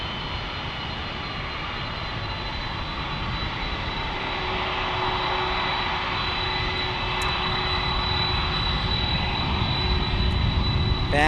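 Heavy jet aircraft at San Diego airport roar with a dense, broadband engine noise and a high whine that swells slowly louder as the planes draw nearer.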